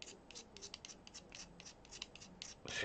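A knife blade scrapes graphite off a graphite stick in quick repeated strokes, a dry rasping scratch close up and quiet, with a final heavier scrape.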